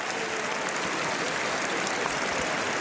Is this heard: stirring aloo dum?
no